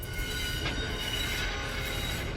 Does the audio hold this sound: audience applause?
no